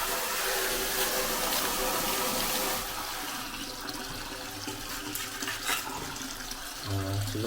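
Water gushes strongly from a newly installed washbasin faucet and a shower head, a loud, steady hiss and splash that eases slightly midway, with brief clunks and a low hum near the end.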